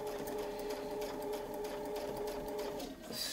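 A sewing machine runs continuously at a steady, humming pace, quilting a wreath design along a Westalee template, close by and alone, for a few seconds.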